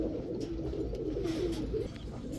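Soft, low pigeon cooing repeats over a steady background hum, close and gentle.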